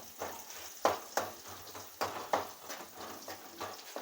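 Raw plantain slices fry in a pan with a moderate sizzle, punctuated by rhythmic stirring scrapes and soft knocks roughly every half second, fairly close and without speech.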